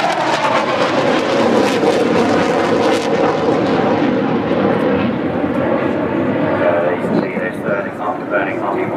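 A Tornado GR4 jet roars past with its twin RB199 engines, a loud, harsh, rushing blast that sweeps by and slowly fades into a distant rumble.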